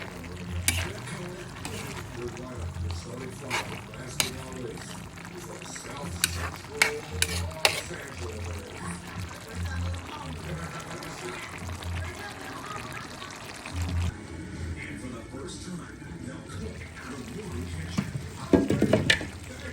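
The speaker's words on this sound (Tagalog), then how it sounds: "paggisa ng ating mga ricado. Bawang sibuyas lang naman po yan guys." Garlic, onion and meat sautéing in a pan with fish bagoong: a quiet sizzle under clinks and scrapes of a utensil stirring, with a person talking over the cooking.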